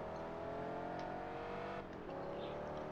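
Motorcycle speeding past in the GTA MTA roleplay game, a continuous engine whine and drone heard fairly faintly, holding steady for a few seconds with a slight dip midway.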